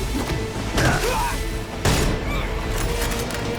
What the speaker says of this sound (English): The gunshots sound really good.